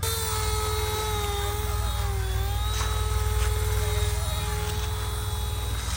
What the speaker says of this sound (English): I used to make fun of RC helicopters, and this is kind of cool